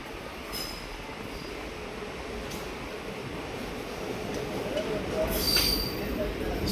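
A Mayiladuthurai–Velankanni passenger train pulls out of Karaikal, heard from on board as a steady rumble of rolling wheels, faint squeals and clinks, and a gradually building roar.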